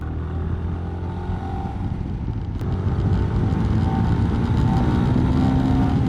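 Motorcycle riding along roads in the south of France, a continuous loud engine drone with wind rush, rising slightly in intensity as it accelerates, close to the rider throughout.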